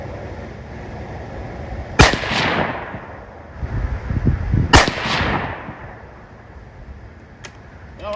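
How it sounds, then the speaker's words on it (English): Two sharp, loud rifle shots from .223 reloaded ammunition loaded with AA2520 powder, about three seconds apart, each cracking hard and ringing out in a long outdoor echo, with a faint click afterward and no talking. "First few shots to warm this barrel up."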